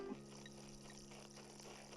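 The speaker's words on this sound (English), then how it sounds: "Water fountain there." A water fountain in the Animal Crossing New Leaf video game splashes and trickles in a soft, continuous stream, faint and steady beneath a quiet background tone.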